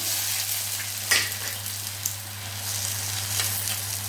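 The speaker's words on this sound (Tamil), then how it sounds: "நெக்ஸ்ட்டு அடுத்த முட்டையை உடச்சி ஊற்றுவோம்." An egg sizzles and fries steadily in a pan for an omelette gravy, with a constant crackling hiss, a low steady hum underneath and a couple of brief utensil clicks.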